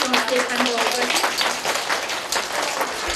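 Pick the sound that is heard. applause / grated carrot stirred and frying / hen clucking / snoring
applause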